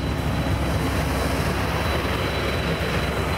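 A steady, loud boat engine drone rumbles without a break, a dense continuous roar with a faint high whine on top.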